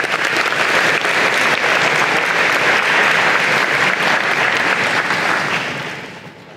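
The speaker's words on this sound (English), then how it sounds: "Any other interns who, yes, give them a round of applause." An audience at a university engineering college convocation gives interns a loud, dense round of applause that holds steady for several seconds, then fades out near the end.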